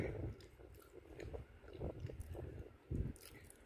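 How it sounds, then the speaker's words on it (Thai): Chewing chewy candied taro and sweet potato, soft, sticky, squishy bites heard close to the mouth in a quiet room, several moist chews spaced irregularly across a few seconds. "อร่อยเคี้ยวหนุบหนุบจ้า"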